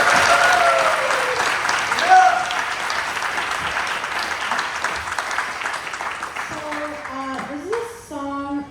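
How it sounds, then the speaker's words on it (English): An audience at a live show at the JCC breaks into sustained applause for the performer Sophie Miller, a dense wash of clapping that fades toward the end as a voice begins to speak. "can you give a nice round of applause for Sophie Miller?"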